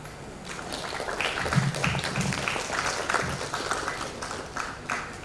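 A conference audience at an international academic event gives a round of applause, a moderate, slightly uneven patter of clapping that swells and eases over several seconds, with a few stronger individual claps near the front.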